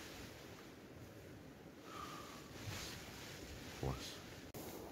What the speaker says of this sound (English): chill out listening to the rain and the river running by